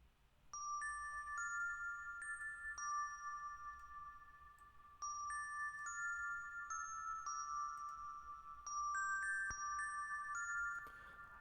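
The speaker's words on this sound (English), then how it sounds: "Yeah, so next thing I have here is this bell sound." Bell tones from a beat mix ring out in a repeating melodic pattern, bright clear struck notes with sustained decays, cycling about three times over a faint low bed, no voices.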